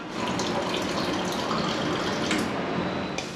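Water pours into a bowl in a steady, continuous rush for a few seconds, close by, with a splashy hiss and no voices.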